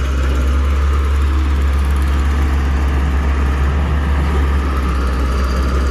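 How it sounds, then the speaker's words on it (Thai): Tractor engine working to level ground at a four-lane road earthworks site, a constant loud low drone close by, unbroken and without speech. "เอา รถไถไปปรับพื้นที่ครับ"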